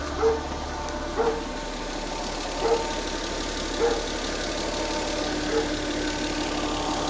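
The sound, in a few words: GAZelle with 2JZ engine idling, gearbox bearing noise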